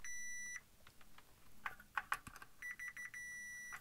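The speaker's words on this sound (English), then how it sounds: "multimeter to continuity." A multimeter set to continuity mode, used while repairing a Hifi News Flutter Buster HFN006, gives a steady electronic beep at the start, several short chirps in the middle and repeated beeps again toward the end, close and clear.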